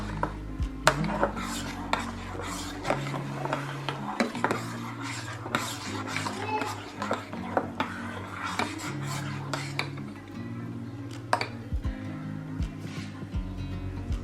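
Gazpacho dressed with olive oil being stirred in a bowl with a utensil: repeated close scraping and clinking of metal against the dish, irregular strokes with a faint low hum underneath.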